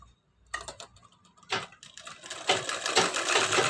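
A sewing machine stitches the hem of an embroidered belt blouse in short rapid runs, starting and stopping, growing louder and steadier toward the end.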